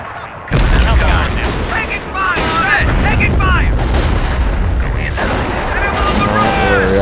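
Battlefield gunfire rattles throughout a Company of Heroes skirmish set in a Far East war, with dense shots and booming impacts under radio-style voices and unit chatter, loud and continuous.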